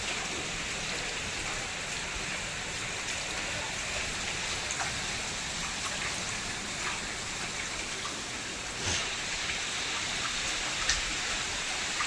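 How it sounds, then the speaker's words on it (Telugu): Heavy rain pours steadily, a dense, even hiss of water with no pauses and no voices. "వర్షం బాగా పడుతుందండి"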